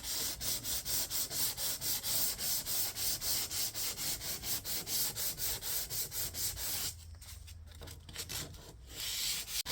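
Hand sanding rusty car paint on a 2018 Ford Escape with 220-grit sandpaper: close, steady back-and-forth rasping strokes in an even rhythm, then a brief pause before a few more strokes.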